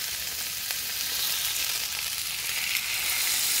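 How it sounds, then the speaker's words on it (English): A beef pot roast browns in a hot pan, giving a steady, moderately loud sizzle and crackle of frying meat that carries on throughout with no talking. "turn it a little bit if you want to brown it on the sides"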